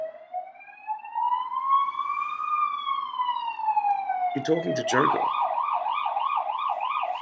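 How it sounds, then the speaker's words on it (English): An emergency vehicle siren on a Budapest city street wails with a slowly rising then falling tone, then switches to a fast warbling pattern, loud and nearby, with a brief spoken phrase. "Fucking Budapest fucking sirens."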